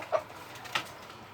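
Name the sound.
frightened chickens clucking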